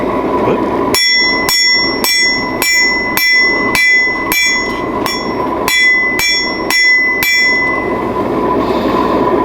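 Steady metallic hammer strikes on a steel chisel, about twelve ringing clangs at an even pace, close and loud.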